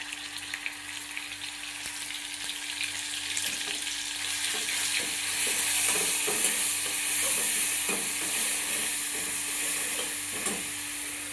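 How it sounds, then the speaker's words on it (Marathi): Garlic-chili paste frying with cumin in hot oil gives a steady close sizzle, rising slightly as it goes, with occasional stirring scrapes. "आता आपण इथं केलेली लसूण आणि मिरचीची पेस्ट टाकून घेऊया।"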